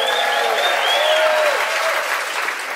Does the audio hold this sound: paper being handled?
no